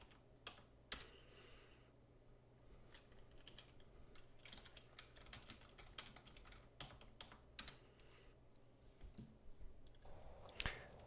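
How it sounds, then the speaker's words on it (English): Typing on a computer keyboard, quiet irregular bursts of clicks and key taps spread across the whole stretch, close and faint with no talking. "I'm going to get some of my typing out of the way."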